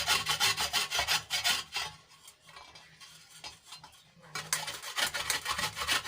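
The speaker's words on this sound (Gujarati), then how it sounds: "આ રીતે આપણે સાબુને ખમણી લઈશું" A bar of soap is grated by hand to make homemade dishwashing liquid: close, rhythmic rasping strokes that break off into a quieter pause midway, then resume with no talking.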